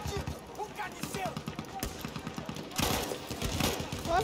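Gunfire in the first-person shooter Battlefield 1: rapid bursts of automatic fire rattle in quick rhythmic volleys, with a heavier louder burst near the end and battle noise mixed underneath.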